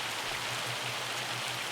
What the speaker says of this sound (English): Yeah, it's hailing out